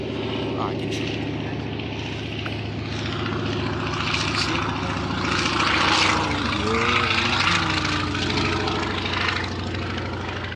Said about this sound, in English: Oh, there's a plane coming.